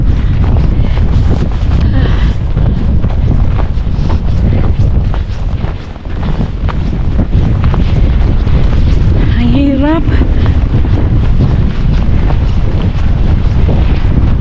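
Strong wind buffets the microphone along a riverside walk, a loud continuous roar that dips briefly; a person speaks a few words under it.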